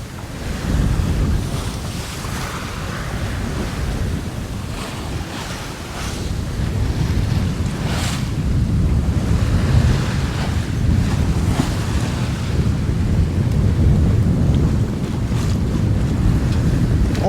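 Sailboat running under a big genoa and full unreefed mainsail off Greece, with loud continuous rushing wind over the microphone and waves washing against the hull throughout.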